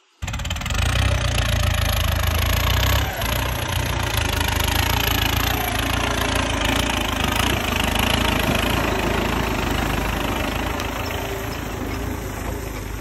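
A tractor engine hauling a loaded trolley through a wheat field runs loud and close, a constant chugging rumble with a slight knocking pulse that holds steady throughout, with no voices.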